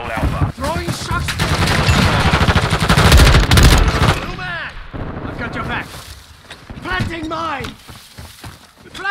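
Loud, rapid automatic gunfire and explosions rattle in a multiplayer match of Call of Duty Modern Warfare 2, with dense bursts that ease off into scattered shots while voices talk over the action.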